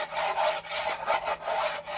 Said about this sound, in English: I'm also going to sand at the edges